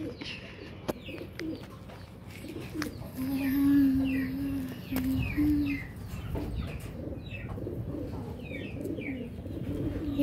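Pigeons coo close by, with low rolling coos repeating over a few seconds amid softer chirps and bird calls and a faint background hum.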